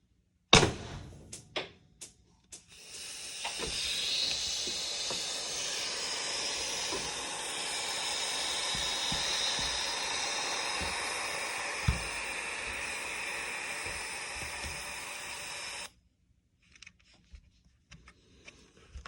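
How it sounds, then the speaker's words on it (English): CO2 hisses loudly and steadily from a loosely tightened cartridge in the magazine of a First Strike FSC marker. The leak lasts about thirteen seconds after a few sharp clicks, then cuts off, leaving faint handling taps. "I didn't have that CO2 cartridge tightened down quite enough in the magazine"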